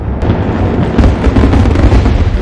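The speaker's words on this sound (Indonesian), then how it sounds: "suaranya tidak terdengar karena suara kembang api yang menggelegar" Loud fireworks boom one after another at a fireworks festival, deep rumbling blasts layered with crackling bursts, filling the air without pause.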